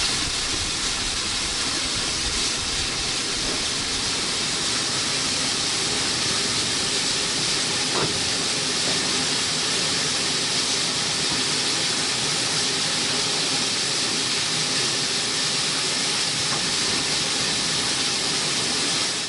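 Steam locomotive GWR 7714 stands at Highley on the Severn Valley Railway, giving off a steady, moderately loud hiss of escaping steam that continues throughout.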